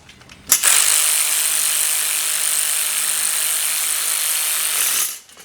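A power driver tightens bolts while a two-tier overhead garage storage rack is being assembled. It makes one steady, close, high whirring run of about four and a half seconds that starts and stops abruptly.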